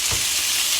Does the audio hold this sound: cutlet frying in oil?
yes